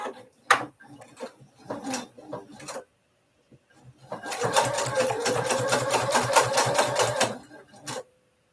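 A sewing machine stitches in a fast, even run of mechanical clatter for about four seconds, after a few scattered clicks and handling knocks, and nobody is talking.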